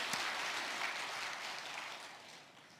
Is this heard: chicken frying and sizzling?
no